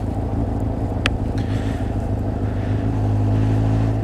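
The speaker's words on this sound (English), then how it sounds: "You need to blimp the throttle." A motorcycle engine idling loudly and close, with a sharp brief throttle blip near the start and the engine note rising slightly toward the end, no speech.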